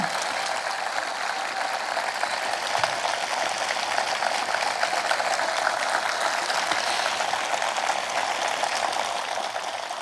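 A large crowd claps at an outdoor memorial ceremony for the late President Roh Moo-hyun, a dense, even wash of applause lasting about ten seconds with no talking.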